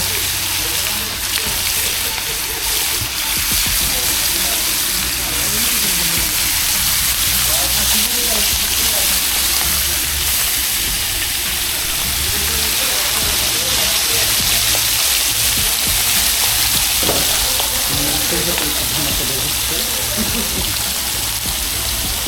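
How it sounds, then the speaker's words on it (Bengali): Hilsa fish frying in hot oil at Mawa, a steady, loud, continuous sizzle running the whole time beneath a person talking. "মাছ ছাড়া হচ্ছে মাছ ভাজা হবে এখন"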